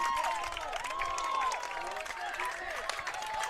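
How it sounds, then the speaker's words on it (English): A soccer crowd at a men's match cheers and shouts in a continuous, fairly loud wash of voices, with some whistling tones rising over the noise. "Crowd's making some noise now."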